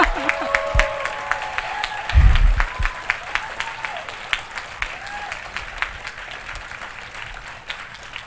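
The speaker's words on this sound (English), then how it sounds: "So can we please give them a round of applause?" Audience applause at a closing ceremony: steady crowd clapping throughout, with a brief low thump and some voices near the start, clapping continuing at moderate level to the end.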